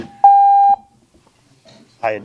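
A single steady electronic beep of about half a second sounds loud and close from a microphone at a city board of adjustments meeting, followed by a brief voice.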